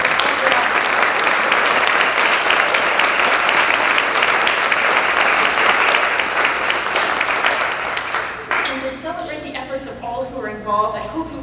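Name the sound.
audience applause after concert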